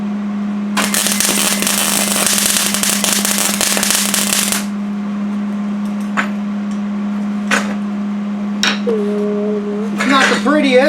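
A welder sparks and crackles while welding onto rebar, a loud sustained burst for several seconds over a steady electrical hum, followed by a few short sharp clicks and some speech.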